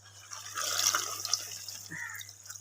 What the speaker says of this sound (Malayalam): ഇനി കുറച്ച് വെള്ളം കൂടെ ഒഴിക്കുവാണേ.